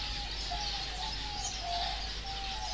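Pigeons in a tree-planted bird reserve give faint, soft cooing and chirping calls over a steady low background hum, with no talking.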